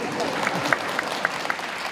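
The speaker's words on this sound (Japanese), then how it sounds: "さざ波のような拍手ありがとうございます" Light, scattered applause from a rakugo storytelling audience in Japan, soft patter of clapping with a few distinct nearer claps over a murmuring room.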